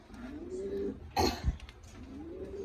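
Racing pigeons give soft, low coos in two drawn-out phrases, one at the start and one near the end. A brief cough-like sound breaks in between. Everything is quiet and close.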